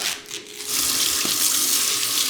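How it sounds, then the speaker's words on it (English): Muddy leeks are rinsed under a running kitchen tap, a steady broadband rush of water that grows louder and fuller after a brief quieter start, continuing alone with no talking. "you're definitely going to want to wash your leeks well"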